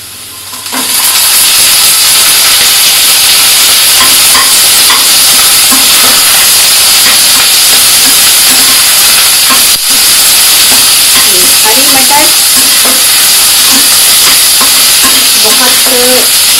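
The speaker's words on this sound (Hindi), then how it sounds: "अब हम डालेंगे इसमें हरी मटर" A loud, steady sizzle of vegetables and potatoes frying in a kadhai for masala rice as green peas go in, the hiss filling the whole stretch with faint stirring scrapes underneath.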